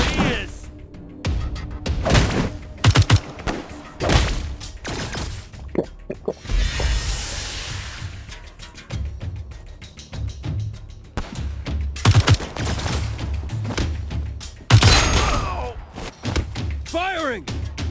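Gunfire in the video game Wasteland 3 comes in sharp repeated bursts and single shots across a chaotic combat scene, with thuds and impacts between them and game voices shouting over the fighting.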